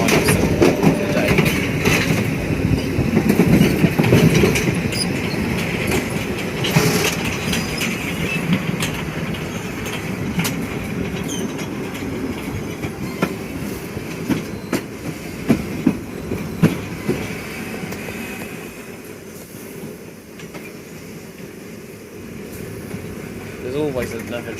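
A London Underground Piccadilly line train runs at speed with a loud steady rumble, rhythmic clickety-clack of wheels on rail joints and occasional squeals, while an onboard announcement voice speaks over it.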